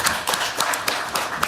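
An audience at a panel talk claps briefly. Individual hand claps ring out fairly close, loud and somewhat sparse over a short stretch.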